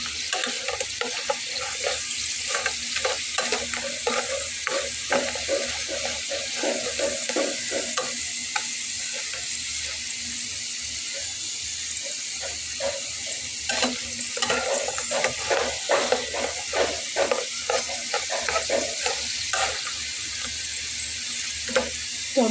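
A flour-based snack fries in hot oil while being stirred again and again, producing a loud steady sizzle with a shrill hiss and a constant run of scraping and clacking stirs.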